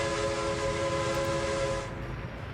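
Train in the city-building game Workers and Resources, a loud continuous rumble with a sustained whistle-like horn tone that fades slightly near the end, heard alone.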